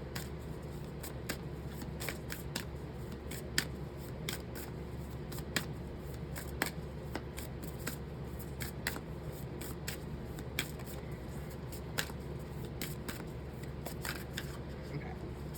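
An oracle card deck is shuffled by hand in a quiet room, giving soft, steady riffling and light slapping clicks throughout, close and faint.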